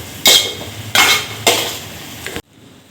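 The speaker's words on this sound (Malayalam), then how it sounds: "ഇനി ഇതൊന്ന് നന്നായി മിക്സാക്കി എടുക്കണം" Vegetable biryani masala with mint leaves being stirred in a pan, three distinct scraping, clattering strokes of a utensil against metal over a faint sizzle, then a sudden cut to near silence.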